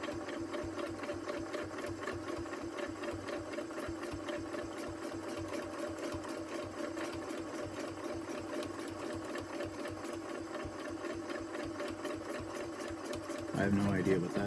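A home sewing machine stitches a quilt at a slow, controlled speed, its needle chattering in a rapid, steady mechanical rhythm close by. The sound runs continuously and swells slightly louder near the end.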